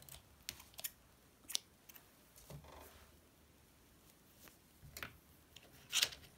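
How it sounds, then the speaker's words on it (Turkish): A few sharp, faint snips of scissors cutting crochet yarn, scattered clicks in a quiet room with no talking. "İpi kesiyorum."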